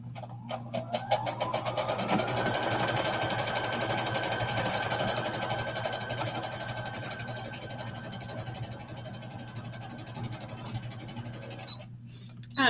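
A sewing machine runs a straight stitch along the hem of a knit skater dress, a steady mechanical whir with rapid ticking at the start that continues for several seconds before stopping near the end.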